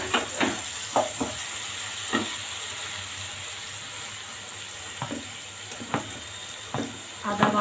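Ginger garlic paste frying with melted tomato in a pan, a continuous sizzle punctuated by repeated sharp stirring scrapes and knocks, close and fairly loud.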